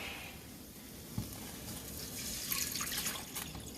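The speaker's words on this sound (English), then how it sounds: "I'm gonna add water" Water running from a tap into a pot, a soft continuous splashing with a few small clinks, fairly quiet.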